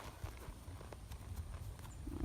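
A large, well-bred horse walks over ground, its hooves clip-clopping in a steady, close rhythm against low background noise.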